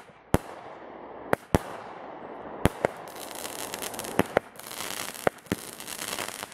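A string of sharp pops and bangs from a 5-inch firework shell with a directional pop effect, at irregular intervals over a crackling, hissing background, several cracks loud and close.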